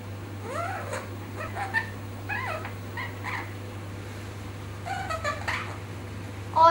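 A cat meows repeatedly nearby, several rising and falling mewing calls in two clusters over a steady low hum in an indoor room.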